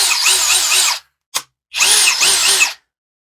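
A Keelat KCD01 cordless drill in drilling mode whirs loudly and close in two bursts of about a second each, separated by a sharp trigger click and a brief silence.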